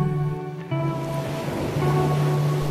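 Ocean waves washing onto a glittering beach, a soft rushing surf swelling beneath sustained tonal music, the wash growing fuller toward the end.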